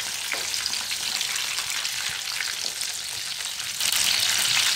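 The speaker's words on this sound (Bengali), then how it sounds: "দুই দিক উল্টে পাল্টে কাটলেটগুলো ভেজে নিচ্ছি।" Chicken kobiraji cutlets fry in oil in a wok, giving a continuous dense sizzle that holds steady and swells slightly louder near the end, with no voices.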